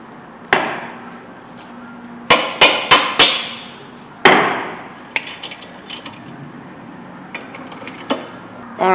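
Sharp metallic hammer blows strike a 2008 Toyota Corolla's front brake caliper bracket to knock it loose, coming as single hits and a quick burst of four with ringing decay, then lighter taps.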